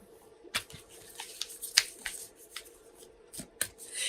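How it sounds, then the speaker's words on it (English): Sacred Traveler Oracle cards are shuffled by hand at close range, giving soft scattered riffling snaps and flicks at irregular intervals over a quiet background. "now I'm shuffling our Sacred Traveler Oracle cards"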